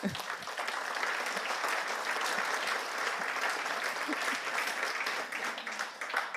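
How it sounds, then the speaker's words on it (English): A conference audience at a closing ceremony applauds the interpreters, a dense, even wash of many hands clapping at steady volume from start to finish. "I think they need a very special applause, please."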